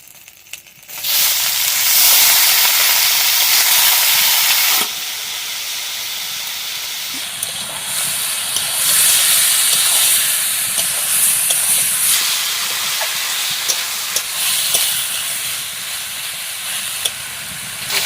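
Chicken meat drops into hot oil spiced with ginger, cumin, chili and garam masala for a village-style chicken and cauliflower curry, bursting into a loud hissing sizzle after a second that peaks briefly, then settles into a steady crackle with no talking.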